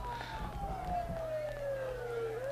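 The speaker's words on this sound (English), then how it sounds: "Sirens. Oh. That's ominous." A wailing siren slowly falls in pitch in a Persona 4 video game, steady and moderately loud over a low hum and faint background noise, while someone talks.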